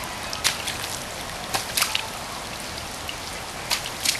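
Rain falls steadily onto puddles, a dense, even hiss of drops with occasional louder splashes and patters close by, heard alone without talk.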